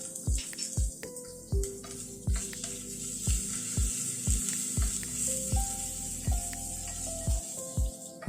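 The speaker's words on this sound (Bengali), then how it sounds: "ফোড়নটাকে একটু ভেজে নিচ্ছি" Tempering spices with green chili and julienned ginger frying on low flame for ghugni, a steady soft sizzle under a run of regular, sharp spoon taps and stirs against the pan.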